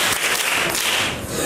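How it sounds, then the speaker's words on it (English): Classmates clap for a student in a school classroom, a short, loud burst of many hands that fills the room. "Clap for her."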